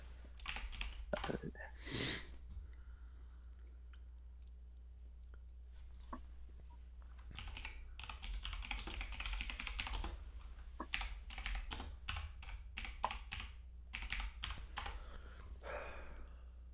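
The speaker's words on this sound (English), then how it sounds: "I can hear you clicking on your keyboard." Rapid, faint clicking of typing on a computer keyboard over a low steady hum, with bursts of keystrokes and short pauses, and a voice briefly speaking.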